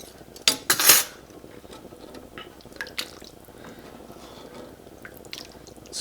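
A utensil stirs seasoning into ground beef in a skillet, with a few sharp metallic clanks early on followed by soft wet squishing and scattered light scrapes, close and without talk.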